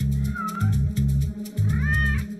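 A cat meows repeatedly in loud, close, drawn-out calls, with several wavering cries following one another over a couple of seconds.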